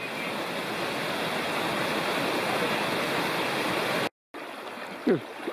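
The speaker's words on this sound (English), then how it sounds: "Here's one of the 5 or 6 crossings of Kirkland Creek." Kirkland Creek rushes steadily at a backpacking trail crossing in the Upper Bald River Wilderness, a loud, close, unbroken wash of water that cuts out briefly near the end before resuming with a small knock.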